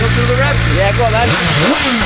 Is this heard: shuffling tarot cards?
no